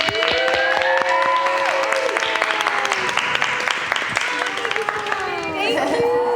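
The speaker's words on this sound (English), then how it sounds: "Round of applause for actor, entrepreneur, mogul, mini mogul." An audience applauds to welcome a guest onto a show, sustained loud clapping with crowd noise and some cheering throughout.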